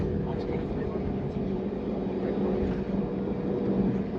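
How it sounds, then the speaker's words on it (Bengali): A passenger airplane sits on the runway before takeoff on a Kolkata to Bagdogra flight, giving a steady, low engine rumble throughout, with a voice speaking over it. "এবার ফ্লাইট টেক অফ করবে।"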